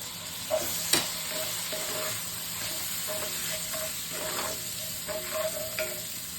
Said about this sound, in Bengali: আর গাজর, হালকা একটু ক্যাপসিকাম, কাঁচা লঙ্কা দিয়ে ফ্রাই করে নিলাম।